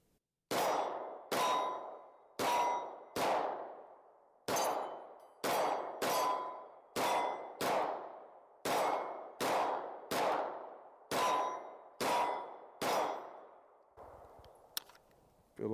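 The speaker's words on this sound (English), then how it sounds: "So I'm going to put my 15 rounder in here, turn on my red dot, and shoot it a little bit with the red dot." Rapid pistol fire from a Springfield Echelon 4.0C with a red dot at an outdoor range, about fifteen loud, sharp cracks spaced under a second apart, each ringing briefly, then stopping.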